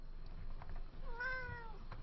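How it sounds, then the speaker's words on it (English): A house cat lets out a single clear meow, close and fairly quiet, rising and falling over faint background noise during a livestreamed Dota 2 esports commentary. "Sorry for the cat sounds."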